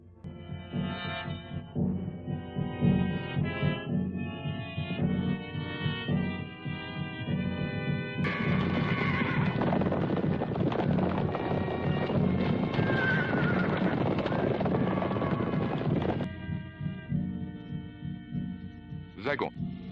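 Horses neigh and whinny repeatedly while hooves clip-clop steadily, loud and close, with a denser burst of movement and commotion in the middle; a voice speaks briefly.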